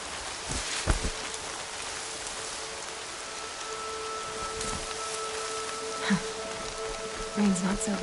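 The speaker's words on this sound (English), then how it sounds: "Rain's not so bad." Steady rain falls in a video game with scattered drips and patters, joined by a few brief thumps and a low, murmured voice near the end.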